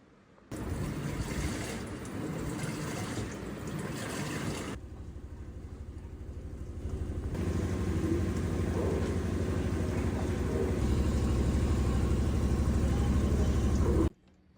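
An automatic washing machine washing clothes gives a steady loud churning rumble of water and tumbling laundry, close by, with a brief drop in intensity partway through before the swishing resumes and runs on until it stops abruptly.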